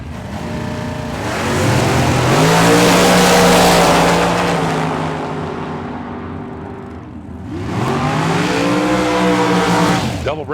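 Drag racing cars roaring as they accelerate down the strip on a chilly day, two loud, close engine surges with rising pitch, the second beginning after a brief lull.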